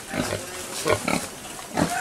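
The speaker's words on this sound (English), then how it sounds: "A lot of these pigs are really high quality." Pigs on a farm grunt in several short, close bursts spread across the moment, with quiet gaps between them and no talk.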